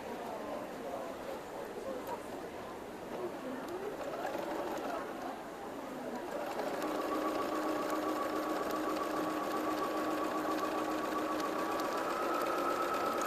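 Sewing machine stitching pieces of a quilt along already-sewn seams, a steady mechanical whirr that starts softly and settles into a continuous hum with a tonal whine in the second half, under a faint background.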